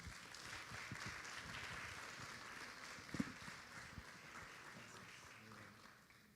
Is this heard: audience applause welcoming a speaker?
yes